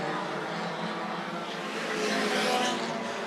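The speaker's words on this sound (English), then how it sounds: "The battle's for third right now between Armato and Schneider" Bandit race cars roar around Rockford Speedway in a continuous, loud, dense engine drone with a rising swell toward the end, a commentator's voice faint beneath.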